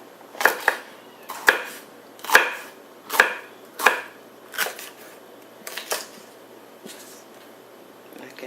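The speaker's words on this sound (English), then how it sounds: "Cut it into strips first." Green bell pepper and other vegetables rough-chopped into strips with a knife on a board, about ten crisp, evenly spaced cuts, close and clear, the last few softer.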